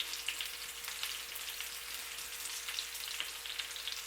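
Mushrooms cut fairly thick sizzle and fry steadily in a pan, a continuous close crackle with small pops and no talking, as a side to sirloin steaks.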